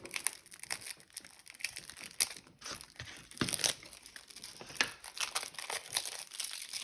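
Crinkling and tearing of plastic wrap as a My Little Pony trading card game theme deck is unwrapped, a run of close, irregular crackles and rips with no talking.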